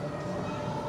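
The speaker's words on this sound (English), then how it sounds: "And you got the train, obviously, goes right on the top there." A ride train rolling along its track at LEGOLAND Windsor gives a continuous, even rumble with a faint tonal whine, steady and moderately loud for the whole moment.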